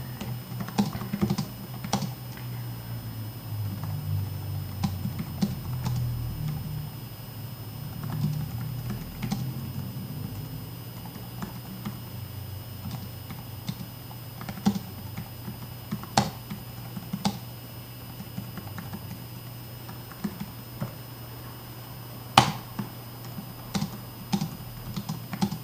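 Keys clatter on a computer keyboard in long, uneven runs of typing with short pauses, close and fairly quiet over a faint steady hum, with no voices.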